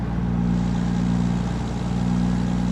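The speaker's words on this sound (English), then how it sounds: "Really powerful engine in it today. Well, I guess 700 horsepower. No slouch with this cat engine." A Peterbilt 389 truck with a 700-horsepower CAT 3406E engine in American Truck Simulator runs steadily with a deep, loud, close diesel drone, holding an even pitch with no one speaking.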